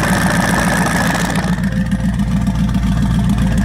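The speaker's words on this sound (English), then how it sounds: "here's my exhaust so far" Car exhaust at a car meet, a steady throaty engine drone held close and loud for several seconds with slight rises, no talking.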